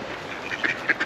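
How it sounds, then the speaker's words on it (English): Ducks give a few short quacks along an urban greenway walk, brief nasal calls popping over steady outdoor background noise. "More ducks."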